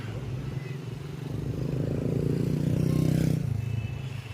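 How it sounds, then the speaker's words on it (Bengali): An ATV engine rumbles on Gopalpur beach in Odisha, a low, steady drone that swells and peaks mid-ride before easing off, heard close over open-air background noise. "এটিভি রাইড চলছে, এটিভি রাইড।"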